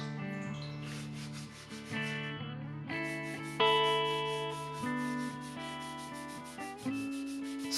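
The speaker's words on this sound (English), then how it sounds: "Now I use sandpaper. The sandpaper only removes the high spots." Sandpaper rasps over a wooden guitar neck as it is shaped by hand, a steady close rubbing that runs under loud tonal music.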